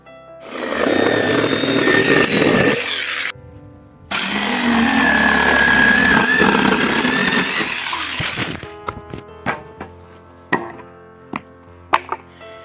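A power saw cuts the sides off a plastic seed-stratification container, two long, loud whining passes with a high squeal, each ending abruptly, followed by scattered sharp clicks and taps.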